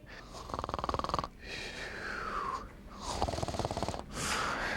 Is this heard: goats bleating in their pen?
no